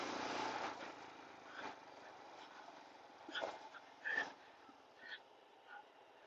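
Dogs barking in short scattered bursts on a rural road, heard over the steady drone of a Royal Enfield motorcycle engine riding along; the barks rise a few times and fade with distance.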